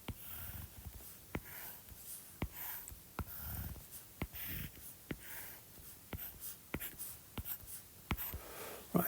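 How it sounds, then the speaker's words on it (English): A pen drawing a cube on paper for a GCSE maths problem, with quiet scratching strokes and sharp taps as lines are drawn, close and faint. "So let's draw a cube."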